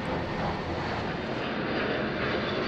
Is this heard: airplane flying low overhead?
yes